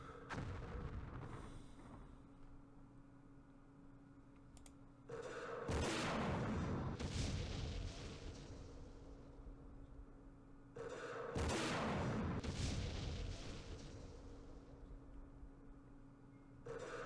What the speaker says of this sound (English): Recoilless rifle fire probably from there